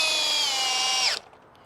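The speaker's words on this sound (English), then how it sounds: "with the 4 amp hour max output battery on the brushless hammer drill, the flagship from Ridgid" A Ridgid brushless hammer drill on a 4 amp-hour max output battery whirs steadily at close range, then winds down and cuts off sharply after about a second.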